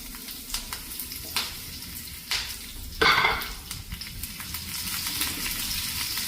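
Curry leaves drop into hot oil with browned onions and chilies for a mango pulissery. Soft sizzling and a few utensil taps come before a sudden sharp crackling burst, which settles into a steady frying hiss. No one speaks.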